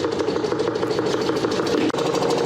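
A front-loading washing machine spins with an unbalanced load, giving a loud, steady mechanical whirring with a fast, rhythmic thumping pulse that continues throughout, broken by one brief dip near the end.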